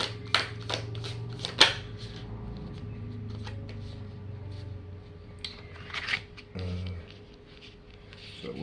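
Tarot cards are shuffled and riffled close by, giving a run of quick crisp flicks and soft papery slides over a steady low hum, with a faint voice now and then.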